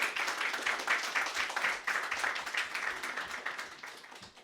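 Audience applause fills a room for Dante Fratturo, a steady wash of many hands clapping at moderate distance. It runs dense and continuous for several seconds, with no one talking over it.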